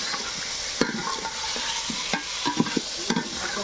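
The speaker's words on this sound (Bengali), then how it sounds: "হলুদ দিয়ে দিচ্ছে। ভালো করে একটু ভেজে নেব।" Spices with turmeric fry in hot oil for a village-style mutton curry, a continuous sizzle broken by scraping stirring strokes and occasional clinks of the utensil against the pan.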